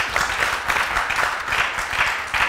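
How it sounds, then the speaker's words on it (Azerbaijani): Studio audience applause on an Azerbaijani TV talk show, a dense steady patter of many hands clapping close and loud throughout, with slight swells and no voices standing out. "alqışlayaq."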